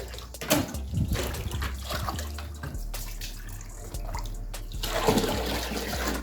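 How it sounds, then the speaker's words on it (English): Warm water splashes and pours steadily onto a dog's wet fur during a bath at home, with trickling and dripping sounds, loud and close, without any talking. "first we are going to wet his fur with some warm water"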